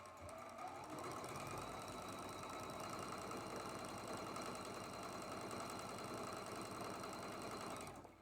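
A sewing machine chain-pieces quilt blocks, running in one steady, loud mechanical whir for about seven seconds, with no talking.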